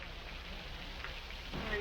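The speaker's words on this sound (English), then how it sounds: "as you can tell, it's raining!" Rain falls steadily on a cloudy day in Cozumel while people wait to go snorkeling. The wash of drops is broad and even, and it swells slightly near the end.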